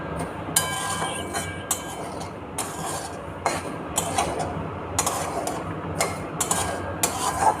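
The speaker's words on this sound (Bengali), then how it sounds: "নেড়ে নিচ্ছি যাতে সুজিটা তলায় লেগে না যায়।" Semolina being stirred and dry-roasted in a hot kadai, a steady scraping rustle broken by repeated sharper scrapes and clinks of the spatula, close and continuous with no talking.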